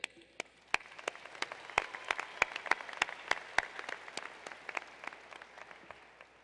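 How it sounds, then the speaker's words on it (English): Graduates of a business school's MS, MBA and PhD class of 2018 applaud at their graduation ceremony, a hall-wide round of clapping with sharp individual claps standing out, gradually thinning toward the end. "give yourself a round of applause because you are so brilliant"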